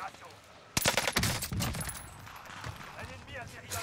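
Burst of video-game gunfire in Warzone, a sharp loud volley of shots at the start followed by continued rattling fire and battle noise, with people talking over it.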